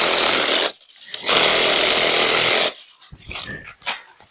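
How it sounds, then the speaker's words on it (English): A DeWalt Sawzall reciprocating saw cuts brush on an Ozark trail in loud, buzzing bursts close by, running hard for a second or so with short pauses between. "I go back to the DeWalt sawzall."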